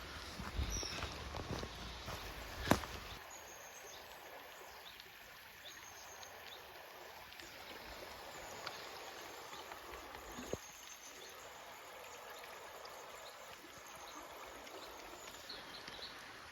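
A river flows beside a country lane on the Coast to Coast walk on a wet day: a faint, steady rushing of water heard from a distance, with a few light knocks and no talk.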